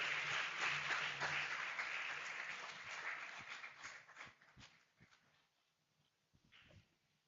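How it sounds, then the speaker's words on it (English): Audience applause at an African Science Academy graduation ceremony, a dense wash of clapping that holds strong at first, then thins and fades over several seconds into scattered claps and near quiet. "A round of applause for her."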